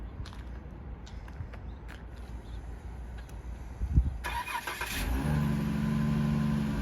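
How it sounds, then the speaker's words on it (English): A 2014 Dodge Grand Caravan SXT is remote-started by key fob: faint ambient noise and a few soft clicks, then the engine cranks and catches, settling into a steady, fairly loud idle hum. "That starts up the car there."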